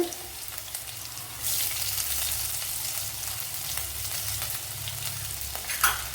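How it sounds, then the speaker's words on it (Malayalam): Garlic and ginger fry in oil with fenugreek in a continuous, close, loud sizzle that swells after the first second, with a brief clatter near the end. "ഇതിലേക്ക് വെളുത്തുള്ളി ഇട്ട് കൊടുക്കുക"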